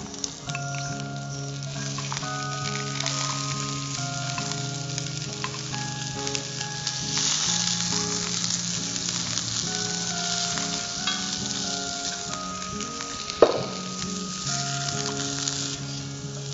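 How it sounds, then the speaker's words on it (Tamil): Onion, ginger, garlic, green chilli and cumin frying in hot oil, a constant hiss and sizzle with faint stirring under steady background music and no speech, one sharp clatter near the end. "இப்போ இது நல்லா ஃப்ரை ஆயிடுச்சு"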